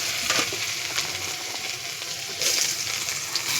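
Carrots fry in hot oil in a wok for a pasta dish, a steady close sizzle with occasional stirring scrapes and bursts of louder spitting.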